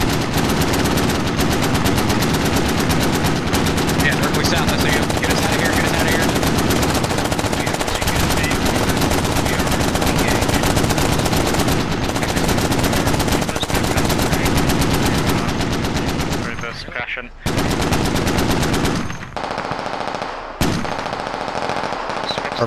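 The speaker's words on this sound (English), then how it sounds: "RPG missed the MAV-V, and all the 50 cals opened up." Several .50 cal machine guns fire in a tactical military shooter game, sustained dense bursts of rapid gunfire rattling loudly for most of the stretch before breaking into shorter volleys near the end.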